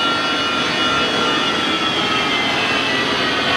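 Monarch 10EE toolroom lathe running steadily at 4,000 RPM, a loud, continuous high-pitched whine and hum that holds unchanged throughout with no talking.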